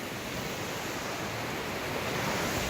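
A stream of cold spring water rushes steadily at Wondo Genet, Ethiopia, a dense, even roar close by that holds constant without any voices.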